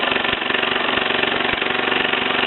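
Mamod SE2 toy steam engine running a little rough and driving a line shaft with a brass hammer, a close, steady mechanical chugging with irregular knocks.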